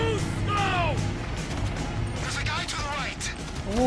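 Repeated gunfire and crashing impacts in Grand Theft Auto V, loud and continuous amid game sound effects and voices over several seconds.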